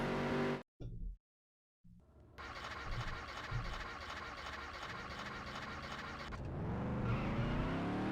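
A race car engine in Dirt to Daytona cranks over after a brief gap of silence. It then catches into a steady, loud idle rumble that swells slightly toward the end.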